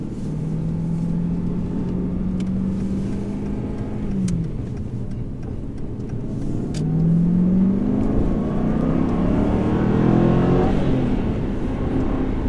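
Aston Martin V8 Vantage Roadster 4.7 with a manual gearbox, engine droning steadily while driving, pitch rising under acceleration, easing off briefly, then climbing again through the gears, close and continuous.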